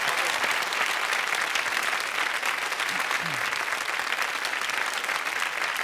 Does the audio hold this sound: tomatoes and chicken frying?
no